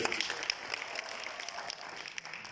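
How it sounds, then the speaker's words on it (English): Faint audience applause at a talk on financial freedom: scattered, continuous handclaps from a crowd, heard at a distance and fairly quiet throughout. "Do you want us to clap hands for Maholwane?"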